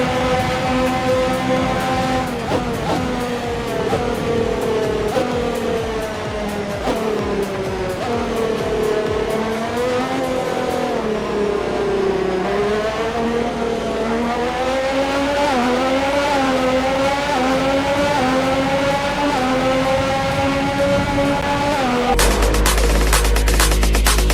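Formula 1 car engines in the video game F1 2021 scream at high revs, the pitch climbing and dropping through gear changes in long sweeping passes, loud and continuous, ending in an abrupt burst of noise.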